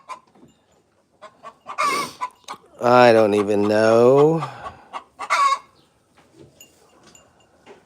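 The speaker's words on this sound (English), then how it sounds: "What kind of chicken did you put on the scale?" Chicken clucking and crowing sounds from a hen on a scale, loud bursts around the middle with scattered clucks, while people talk nearby.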